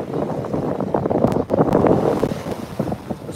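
Strong wind gusting across the microphone at an open scenic outdoor spot, a loud continuous roar with buffeting swells and no one speaking.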